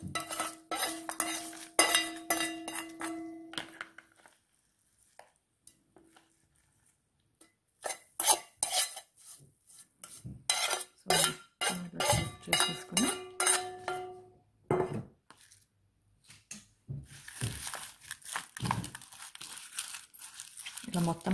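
A spoon stirs and mixes carrot chutney in a bowl, giving bursts of scraping, clinking and wet mixing sounds separated by pauses, close up, with a person talking at times.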